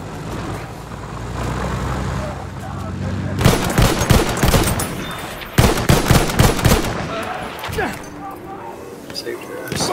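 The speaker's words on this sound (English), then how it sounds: "Shooting at me." Bursts of rapid gunfire from Battlefield 1 multiplayer, two dense volleys of close shots over a constant rumbling battlefield, with voices talking throughout.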